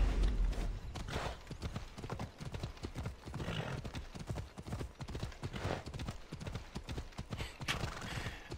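A horse gallops with steady, rapid clip-clop hoofbeats in the Greek world of the video game Assassin's Creed Odyssey, a continuous rhythmic pounding at moderate distance over a faint background.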